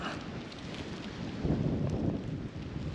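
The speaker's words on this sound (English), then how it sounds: "the rain stopped and the wind just picked up" Wind gusting past a hunter's tree stand in the Ohio hills just after rain, a steady broadband rush that swells louder midway and holds, with no voices.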